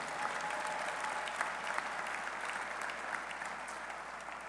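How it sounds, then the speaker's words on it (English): Audience applause at a college football coach's introductory press conference, continuous even clapping from a room full of people lasting several seconds over a low steady hum, easing slightly toward the end. "give them a round of applause"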